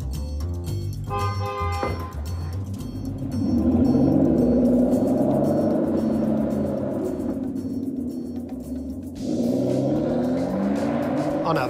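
A sports car engine, an Aston Martin at the St Athan plant, draws near with a steady, rising roar and shifting revs that swell and hold loud throughout, with a brief change in pitch near the end.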